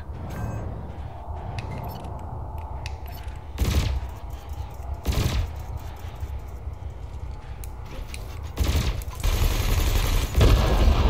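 Ship weapons firing in Elite Dangerous, with a steady engine hum underneath and several sharp, loud bursts of fire spaced a few seconds apart.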